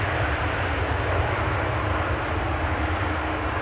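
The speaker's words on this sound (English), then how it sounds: "Ryanair using their reversers." A Ryanair airliner rolls out after landing with thrust reversers deployed, a loud, steady, close jet roar heavy in low rumble, sustained without a break.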